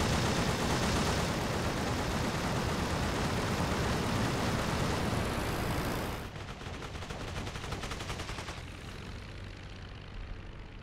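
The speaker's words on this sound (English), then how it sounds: "here comes the ground fire" Anti-aircraft ground fire in the World War I flight sim Rise of Flight, steady rapid gunfire rattling over a loud droning aircraft engine, then thinning to a quieter stretch with no talking.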